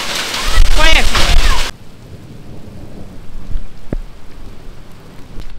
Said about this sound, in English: It's raining really hard, little bits of hail.